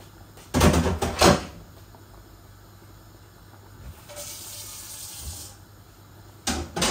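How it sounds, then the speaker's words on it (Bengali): Water runs from a kitchen tap while a frying pan is washed, coming in loud hissing bursts separated by quieter stretches of trickling and a soft steady rush. "এই ফ্রাই প্যানটাকে ধুয়ে আর অল্প একটু দিয়ে দিচ্ছি পানি"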